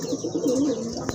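Pigeons, a paired male and female, coo in a low, continuous warbling run, close and fairly loud, ending with a brief knock.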